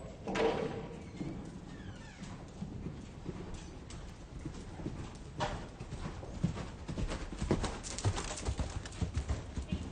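Horse hooves clip-clop in a steady cantering rhythm on an arena surface during a riding clinic, moderately close and continuous, with faint background noise and occasional scuffs.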